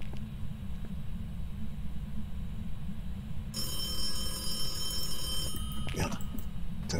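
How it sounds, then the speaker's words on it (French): A telephone rings in the ghost-hunting video game Phasmophobia, a bright trilling bell starting midway through and continuing over a steady low rumble of background noise, with faint voices nearby. "C'est le téléphone qui a sonné."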